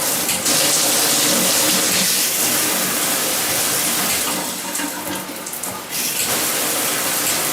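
Steady rushing hiss of water spraying from a shower head, continuous and close, with a brief dip in intensity partway through.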